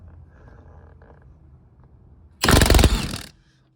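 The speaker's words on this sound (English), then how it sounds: "I'm using a 21 millimeter socket on my impact" An impact wrench fitted with a 21 mm socket loosens the steering wheel nut on a C5 Corvette, firing one loud, dense hammering burst of about a second after a quiet stretch.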